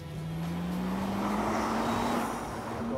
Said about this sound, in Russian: Хаммонд, у меня 715 лошадей и только задний привод.